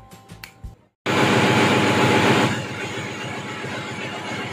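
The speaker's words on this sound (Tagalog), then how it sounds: "ganito naman yung tunog ng generator pag nasa pod kami" After a short moment of quieter noise, a loud steady machinery hum kicks in and drones on, a container ship's generator running close by.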